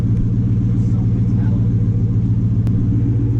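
Ford SVT Cobra with a Flowmaster exhaust idling close by, a steady deep throbbing rumble that runs throughout beneath people chatting.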